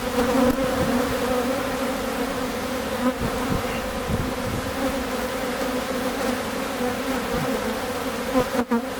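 Honeybees buzzing steadily at an open hive, a dense continuous swarm drone close by with no talk over it.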